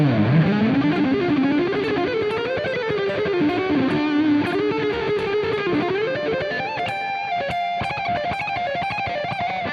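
Electric guitar with heavy distortion plays fast, fiery rock lead lines through pentatonic runs, loud and continuous for the whole stretch with no talking.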